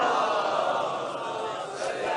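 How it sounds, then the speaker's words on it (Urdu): A large gathering chants salawat in unison, a dense, loud wash of many voices sustained throughout, close and continuous. "نعرے مل کے صلوات بھیج دے محمد و آل محمد پر"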